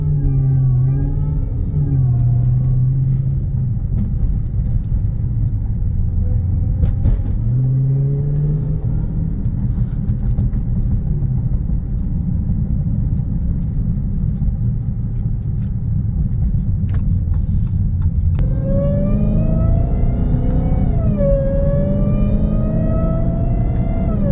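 A 2017 Dodge Charger SRT Hellcat on a test drive, its supercharged engine rumbling loudly throughout. The revs climb through gears with whining rises and a strong surge near the end. No one speaks.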